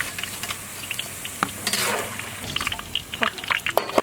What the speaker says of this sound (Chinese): 把土豆片和藕片炸一下